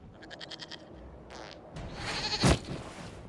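A goat bleats in Dragon Age Inquisition, a run of quick nasal bleats up front followed by another short bleat, then scuffing and a sharp thud as the scene plays on.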